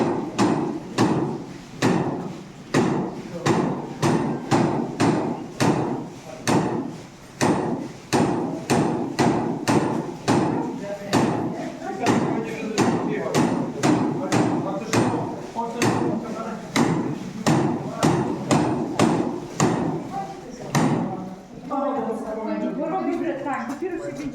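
Heavy rhythmic strikes of a water-wheel-driven trip hammer in a hammer mill repeat at a steady pace, roughly two per second, loud and close, continuing for a long stretch before stopping, with low voices underneath.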